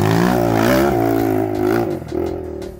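Dirt motorcycle with a dual exhaust revving on a trail by a wooden bridge, a loud close engine holding a high buzzing note, then dipping and surging again near the end.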